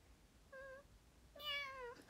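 A person imitates a cat's meow twice with the voice, first a short soft mew and then a longer, brighter meow. Both are quiet and close against faint background hiss, with no other talk.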